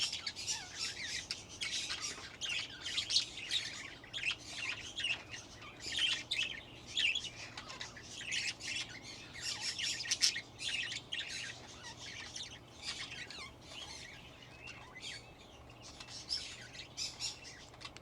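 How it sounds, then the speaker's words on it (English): Parakeets squawk and chirp continuously in a busy, overlapping chorus of shrill calls, fairly close, with no talking. "These are the parakeets."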